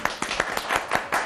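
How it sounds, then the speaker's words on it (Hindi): A studio audience applauds to welcome guests on a TV talk show, a short burst of brisk, fairly loud, close clapping with several sharp overlapping claps and no voices. "जोरदार तालियों में हम वेलकम करने जा रहे हैं"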